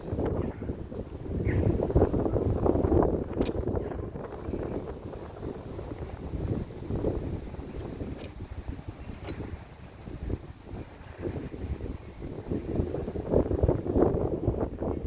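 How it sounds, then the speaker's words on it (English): Strong outdoor wind buffets the microphone during pellet rifle shooting, a continuous rough roar that surges and eases in gusts over about fifteen seconds, with no speech. "here comes the wind again. Strong as ever. It's even blowing the gun."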